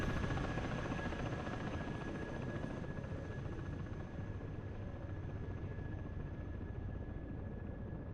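An aircraft engine drones steadily in the DCS flight simulator game during a flyby, a continuous mechanical hum with a faint whine that eases slightly partway through, with no talk.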